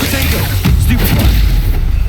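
A Stupefy spell blast in Hogwarts Legacy lands as a heavy, booming impact over a constant bed of game noise, followed by a rumbling tail that fades out over about two seconds.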